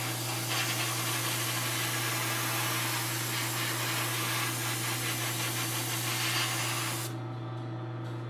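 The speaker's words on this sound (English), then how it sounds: "this is going through the old airbrush" An old airbrush sprays paint onto a Seven of 9 model, a continuous loud airy hiss over a steady compressor hum that cuts off near the end.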